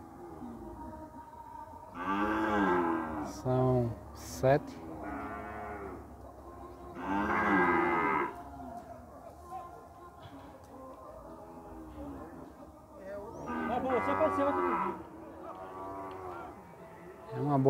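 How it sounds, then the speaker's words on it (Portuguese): Cattle moo repeatedly at a livestock market in Campina Grande, Brazil, several loud drawn-out calls spaced through the stretch, with people talking in Portuguese between them. "Lote de vaca aqui, pessoal."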